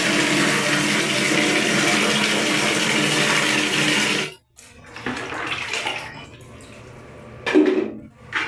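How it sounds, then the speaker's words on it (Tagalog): Water gushes steadily from a shower for several seconds, then cuts off, leaving faint splashes and a brief voice. "Shower."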